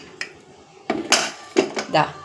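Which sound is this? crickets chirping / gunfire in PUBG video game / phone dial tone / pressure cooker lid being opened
pressure cooker lid being opened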